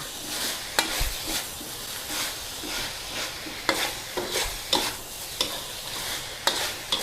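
Herb pork with sliced kaffir lime leaves is stir-fried in a wok, giving a soft steady sizzle broken by repeated sharp scrapes and clanks of the spatula at an uneven rhythm.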